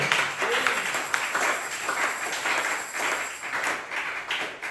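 A church congregation applauding for the Lord, a continuous crowd of clapping hands at moderate loudness that stays even throughout, with faint voices mixed in.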